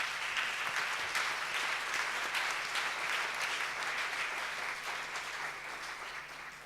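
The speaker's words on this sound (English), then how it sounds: "Let's give them a big round of applause." Steady, dense applause fills a conference hall as an audience claps for a panel at a session on migration. It holds at an even level throughout and tapers slightly at the close.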